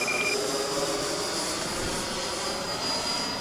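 An FMS Scorpion 90mm EDF RC jet on 8S power flying at full throttle, a continuous high whining ducted-fan roar with a steady pitch, loud and sustained throughout, with no talk.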